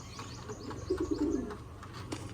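Soft, low pigeon cooing rises briefly in the middle of a quiet background with faint scattered ticks.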